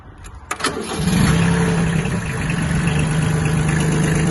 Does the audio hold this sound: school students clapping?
no